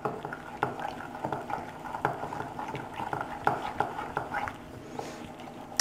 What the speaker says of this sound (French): Et je mélange à la spatule.